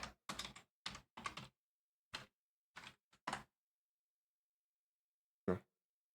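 Quick bursts of key clacks on a computer keyboard, close and crisp, in short irregular clusters separated by silent pauses, ending with a single louder tap.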